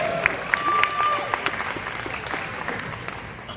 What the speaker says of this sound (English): Start clapping for Will Lopez